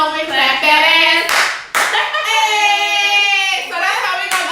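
Hand clapping in a quick burst alongside a loud, sustained singing voice that carries through most of the moment.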